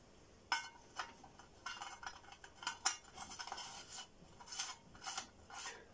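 Metal cap of an Edwardian oil lamp handled up close: scattered light scraping, rubbing and clinking touches, some sharper, at low level with no talk.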